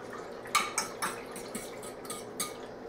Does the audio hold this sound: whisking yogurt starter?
yes